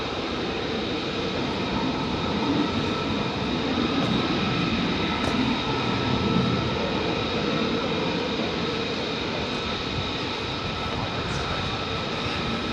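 Military jets at RAF Lakenheath, among them F-15s, F-16s and F-35s, give off a sustained, fairly loud engine roar with a high whining tone over it, steady throughout with no speech.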